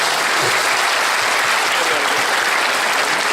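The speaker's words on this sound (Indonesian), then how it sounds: "Tepuk tangan untuk kita." A large audience at an Indonesian civic appreciation event for the Sejuta Biopori movement bursts into sustained, dense applause, loud and steady throughout with no break.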